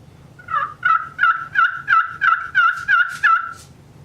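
Turkey pot call played by hand, giving a series of about nine rhythmic, raspy yelps in a steady run, close and clear against quiet surroundings.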